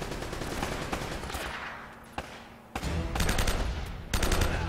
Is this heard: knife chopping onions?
no